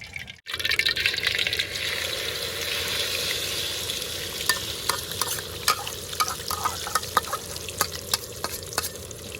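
Eggs with cha-om (acacia shoots) frying in a pan, a loud, steady close sizzle and hiss after a brief start, with scattered clicks and light spatula scrapes building toward the end, no voices.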